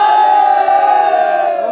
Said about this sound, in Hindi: पूरा जयकारों से गूंज रहा है शीतल कुंड परिसर